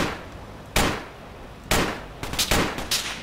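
Gunfire in the military shooter game Project Reality: several sharp, loud shots in close succession, the last few clustered into a quick burst, with no talk over them.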